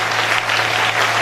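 A church congregation claps together, a loud, close, continuous burst of many hands over a low steady hum, lasting just over a second.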